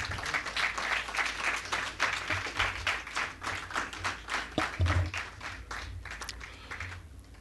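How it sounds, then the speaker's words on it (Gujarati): A seated audience at a Gujarati literary event breaks into sustained applause as a guest takes his place on the stage, steady dense clapping throughout that thins and fades near the end. "આપણે તાળીથી અભિવાદન કરીશું"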